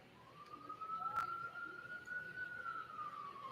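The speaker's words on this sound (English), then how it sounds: "Is that an ambulance siren on here?" A wailing siren rises and holds steady at a distance, sweeping slowly over several seconds above a low background hum.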